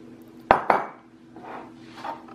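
A utensil knocks twice sharply against a mixing bowl of flour, sugar and salt, followed by a couple of soft scraping stirs, close and otherwise quiet.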